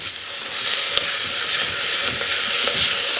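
Onions and green peppers sizzling in a pan as whole garlic cloves and soft brown sugar are stirred in, a steady close frying hiss with occasional clicks and scrapes of the spoon and no talking.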